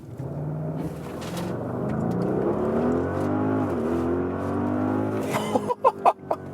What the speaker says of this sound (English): let's just accelerate a little bit to see and also hear the sound.